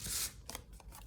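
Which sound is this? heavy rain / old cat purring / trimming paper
trimming paper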